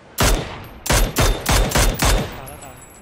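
Gunfire in PUBG, a squad ranked match: five loud, evenly spaced bursts of rapid shots ring out in sequence, each with a short trailing echo.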